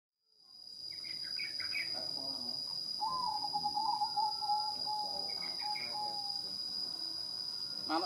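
Zebra dove (perkutut) cooing in a repeated, tonal, mid-pitched phrase against a steady high electronic whine and background chatter of other birds, moderately loud throughout.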